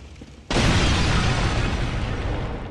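Explosive objects in the Bloodborne video game blow up in a single loud boom that opens abruptly after a brief quiet lead-in, then rolls on as a dense, sustained roar of debris and rumble with no voices.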